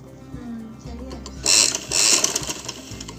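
A sewing machine stitches a band onto a ladies' kameez, close, in two short whirring bursts with softer handling sounds around them and a voice speaking in the background.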